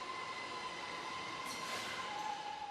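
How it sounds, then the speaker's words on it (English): A train runs on Huawei's European-style campus in Shenzhen, a steady faint rumble of wheels on rails with a thin squeal, continuous and fairly distant with no talk. "They have their own train."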